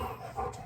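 A household dog pants close by in a brief burst of rapid, breathy rhythm with a small whimpery yip near the end, no speech over it.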